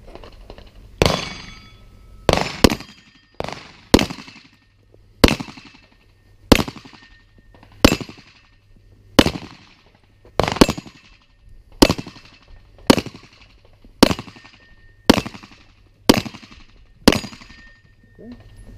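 Firearm shots fired while the shooter moves: about fourteen sharp, loud reports at a steady pace of roughly one per second, each ringing briefly, with faint outdoor ambience between them.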